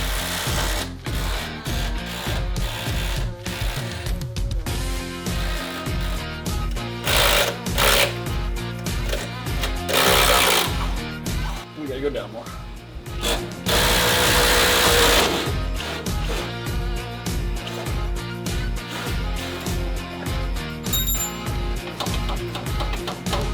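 A power tool with an 18 mm socket removes cradle bolts while a drag pack is installed on a Dodge Challenger, giving repeated loud buzzing bursts of whirring and rattling close by.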